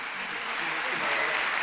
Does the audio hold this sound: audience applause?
yes